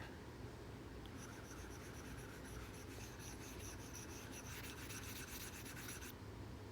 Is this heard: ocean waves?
no